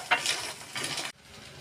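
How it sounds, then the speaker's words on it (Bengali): Egg paratha fries in white oil in a pan, giving a short, near sizzle with a faint scrape at the start, then a softer hiss after a brief drop in level. "এই যে উপর থেকে একটু সাদা তেল ছড়িয়ে দেবো, যাতে তলাটা একটু ভাজা ভাজা হয়ে যায়"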